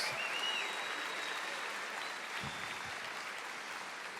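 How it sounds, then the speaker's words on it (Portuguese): A church congregation applauds in a steady, dense wash of clapping that holds evenly throughout, heard from within the crowd. "Oh, aplauda o Senhor."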